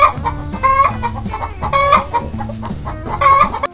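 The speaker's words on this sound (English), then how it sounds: "chicken," A chicken clucks loudly and close by in a repeating pattern of short, strident calls and rising squawks, heard alone.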